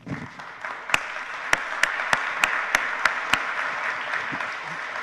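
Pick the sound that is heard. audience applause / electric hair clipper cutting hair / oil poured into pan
audience applause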